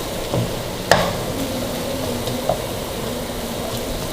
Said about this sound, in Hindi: इसको अच्छी तरह मिक्स करके स्टफिंग को ठंडा होने के लिए छोड़ देंगे।